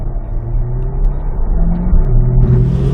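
A 2024 Chevy Corvette E-Ray hybrid sports car driving at Pikes Peak International Raceway, heard from inside as a steady low engine rumble with a slight rise in pitch as it accelerates.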